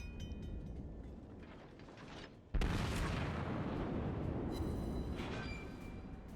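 In World of Warships, naval shells from a Montana battleship strike a North Carolina battleship with a sudden, loud boom. A heavy rumbling roar follows and fills the rest of the moment, with game noise before the hit.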